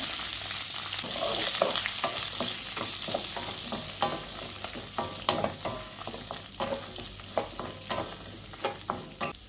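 Onion fries in a pan with dried red chilies for a soya fry, giving a steady bright sizzle while a utensil stirs and scrapes in irregular, repeated knocks.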